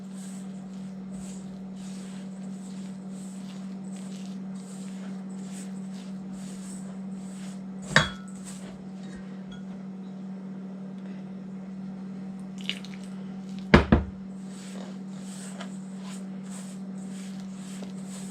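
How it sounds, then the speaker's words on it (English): Hands work water into Jamaican festival dough, soft repeated squishes and wet taps of the mixture in a quiet kitchen under a steady low hum, with a couple of louder knocks. "So add that water in very slowly and work it in to the mixture."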